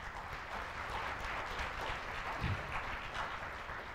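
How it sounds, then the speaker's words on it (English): Moderate audience applause after a talk at a cryptography conference rump session, a continuous, slightly distant patter of clapping with a soft thump midway. "I think we should have some applause for Xavier Boyen and his visual cryptography."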